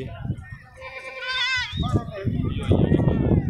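A Gulabi goat at a livestock market in Tando Adam lets out one clear, wavering bleat close by, surrounded by people talking before and after.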